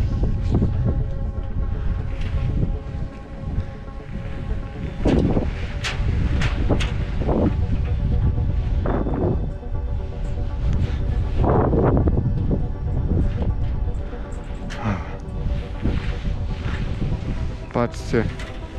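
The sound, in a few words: wind blowing atop the Bagger 258 excavator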